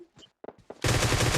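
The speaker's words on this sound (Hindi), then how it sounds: "इधर गोली चल रही।" Automatic gunfire in the mobile battle royale game PUBG Mobile: a few faint clicks and thumps, then a loud, close, continuous rapid-fire burst.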